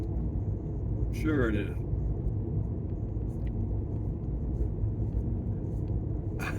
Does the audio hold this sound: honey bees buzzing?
no